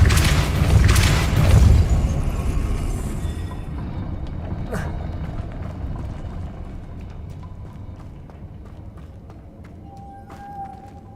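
A Depulso spell cast in Hogwarts Legacy: a loud forceful burst with a booming thud early on, then a fading rumble and scattered small impacts under ambient game sound.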